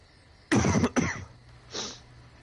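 Two harsh coughs close together, followed after a pause by a softer, shorter cough or throat-clearing, close to the listener with no talking.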